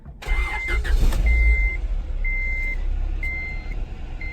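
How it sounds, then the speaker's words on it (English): A 23-year-old Honda Integra Type R starts up and settles into a steady idle, close and fairly loud, with a series of regular high electronic beeps sounding from the cabin over the engine. "So let's run the engine quickly and see."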